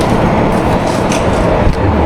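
A train passes near an abandoned village in the Alas Gumitir forest, a continuous loud rumble of rolling rail wagons filling the scene without a break.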